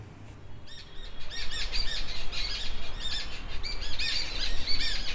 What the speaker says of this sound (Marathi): संध्याकाळची वेळ झालेली आणि पक्ष्यांचा केबिला तिकडे सुरू आहे.